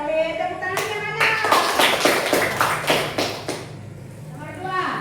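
A class claps together in a quick, even rhythmic pattern of about eight sharp beats, loud and close, with a voice heard briefly before the clapping starts and a quiet stretch after it ends.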